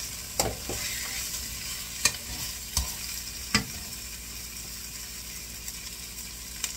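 Onions browning in a pot for paksiw na pata humba hiss with a steady, loud sizzle, broken by a few sharp clacks and scrapes of a utensil against the pot.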